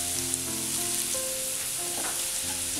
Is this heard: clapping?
no